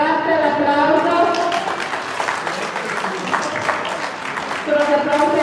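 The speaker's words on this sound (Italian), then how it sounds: "Bravissime ragazze, l'applauso!" Applause for young female fencers at the end of a bout at a regional youth tournament, a steady dense crowd clapping that carries through the whole stretch with people talking over it.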